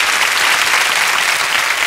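A studio audience at a 1996 Chilean television variety show bursts into loud, continuous applause that fills the whole short stretch.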